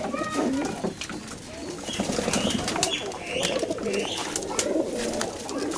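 Aabluk pigeons coo at a pigeon farm, several birds producing overlapping rolling calls close by, with a faint flutter of wings and little talk.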